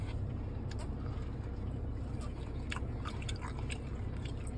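Steak from a Japanese restaurant is chewed near the microphone, with soft, irregular wet bites and crunches over a constant loud background hum.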